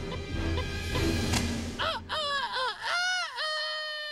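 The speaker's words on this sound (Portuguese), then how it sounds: "Vai, canta logo, pássaro maldito!" A cartoon rooster crows in an animated farm film, sounding loud and close as a series of rising and falling calls that follow a burst of busy, noisy action.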